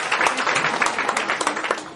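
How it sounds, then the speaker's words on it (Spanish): A congregation applauding during a Catholic priest's teaching, brisk and fairly loud clapping from many hands with rapid overlapping claps over two seconds. "Un aplauso a este hermano."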